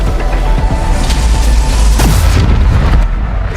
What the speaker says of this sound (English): Now move to safety before the spike detonates.